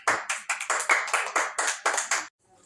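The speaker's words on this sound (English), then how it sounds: "Claps." A classroom of students claps in short bursts for a correct answer in a spelling game, about nine quick rounds of applause, close and loud, stopping abruptly into silence.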